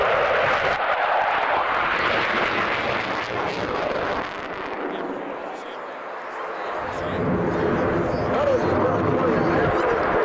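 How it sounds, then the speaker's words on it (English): An F-14 Tomcat jet fighter roars steadily at an airshow, loud and continuous with a brief dip midway before swelling again as it comes head on, while an announcer talks over it. "the Tomcat is coming right at you head on"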